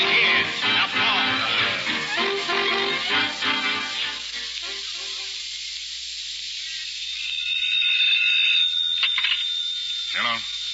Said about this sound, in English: We've got a general alarm